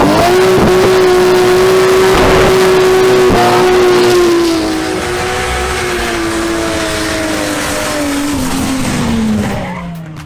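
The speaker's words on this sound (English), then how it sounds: "the duel between Jamie Isaza's BMW M340i xDrive and Gustavo Barbosa's Toyota Crown with the legendary 2JZ turbo engine" A BMW M340i xDrive and a turbocharged 2JZ Toyota Crown launch in a drag race, engines roaring loud and close with a sustained high tone and tire squeal, fading as the cars pull away.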